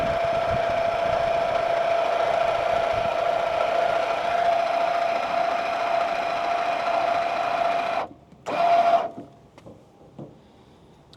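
Hydraulic jacks of an RV auto-leveling system raise a trailer with a steady, loud electric motor whine and hum that runs for about eight seconds, then stops, followed by a brief burst of motor noise and quieter clicks.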